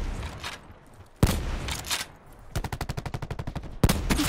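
Video game gunfire at close range: a single loud shot, then another, then a rapid burst of automatic fire, closed by one more sharp report.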